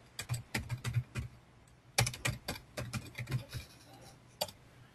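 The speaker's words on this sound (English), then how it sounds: "Type in the title." Keys clack on a computer keyboard as a report title is typed, close and crisp in uneven bursts of quick strokes with short pauses, no talking over it.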